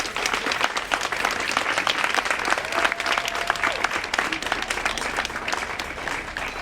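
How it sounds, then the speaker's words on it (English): Sustained, dense applause from an audience at a school's 125th anniversary ribbon-cutting ceremony, steady clapping throughout at fairly high volume. "Let's give them a big round of applause"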